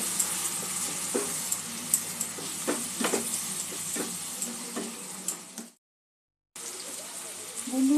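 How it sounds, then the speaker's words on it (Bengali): Masala frying in a pan with a splash of water added, a steady sizzling hiss with scattered crackles and pops, briefly cutting out near the end before resuming. "সামান্য একটু জল যোগ করে মশলাটা একটু কষে নেব।"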